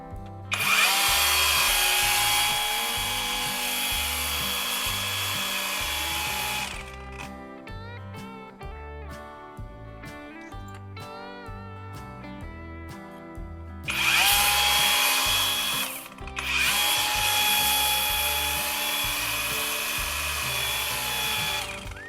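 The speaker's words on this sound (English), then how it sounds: "Now, both ends of this metal rod will be sharpened." Both ends of a metal rod are sharpened with a power tool in two loud, close bursts of harsh, rasping whine, separated by a quieter stretch of humming machinery with background music.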